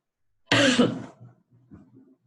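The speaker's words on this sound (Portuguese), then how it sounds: "desculpa a tossida" A single harsh cough bursts out close to the mic, trailing off into a few quieter throaty rasps.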